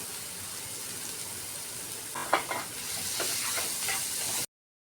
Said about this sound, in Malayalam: കുറച്ച് ഫെനൽ സീഡ് ഇടുക, കുറച്ച് ജീരകം ഇടുക